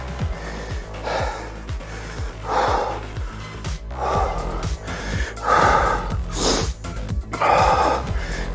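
Heavy rhythmic breathing and forceful exhales during desk squats, repeating about every second and a half over a steady pulsing workout music beat.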